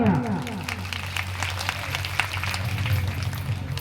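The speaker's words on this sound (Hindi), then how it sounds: "उन संतों के लिए एक बार जोरदार तालियां।" Audience clapping for the saints at a rural Bhagavat Katha religious gathering in a village hall, a steady wash of applause mixed with crowd noise and a low hum of a sound system, with a voice or singing rising at the start.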